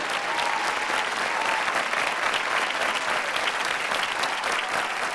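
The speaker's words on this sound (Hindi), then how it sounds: "ज़ोरदार तालियों से उनका इस्तकबाल किया जाए।" Applause from a big audience welcoming a poet at a grand mushaira poetry gathering, a thick, even roar of clapping that stays loud and unbroken throughout.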